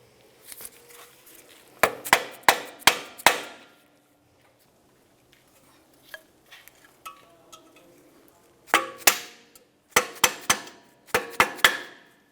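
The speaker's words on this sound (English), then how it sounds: "For that, we'll just use a small prying device and a hammer." Hammer striking a small prying tool to peen over steel backing plate ears on a 2000-2006 Chevrolet Tahoe, sharp metallic taps in two quick clusters of four to five blows, close, with quieter clinks between.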